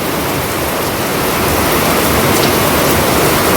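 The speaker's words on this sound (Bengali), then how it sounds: "যে পরিমাণে জোরে বৃষ্টি এসছে" Heavy rain pours down hard in a dense, loud, unbroken hiss that stays steady from start to finish, with no voices over it.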